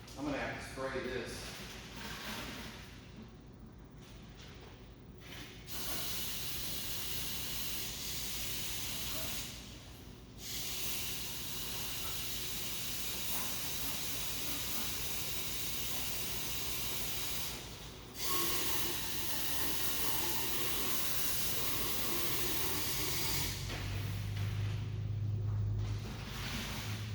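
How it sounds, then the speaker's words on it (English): Cleaner sprayed onto the coil of a wall-mounted mini split air handler, a long steady hiss broken by a few short pauses, close and fairly loud. "see this coil. I'm going to have to spray this"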